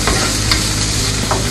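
Sweet peppers sautéing in a hot pan, a dense continuous sizzle with brief stirring scrapes layered on top, loud and close throughout with no speech.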